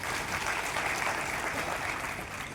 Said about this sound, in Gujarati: જોરદાર તાળી એમની માટે